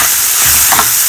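Fried rice being stirred in a hot pan with thyme and curry, a loud continuous sizzle with a brief scraping stir, close up and with no talking.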